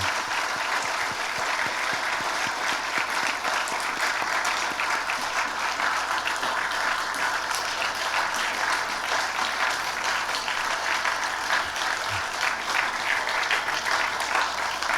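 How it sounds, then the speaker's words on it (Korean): A church congregation at a New Year's Eve service applauds to encourage the choir, a dense, continuous wash of clapping that stays loud and even for the full length. "한 번 더 여러분 뜨겁게 박수로 격려해 주시기 바랍니다"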